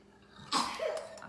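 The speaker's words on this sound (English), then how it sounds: "There's lots of coughing going on here" A single sharp cough bursts out near the mic, followed by a short throaty rasp, against a quiet background.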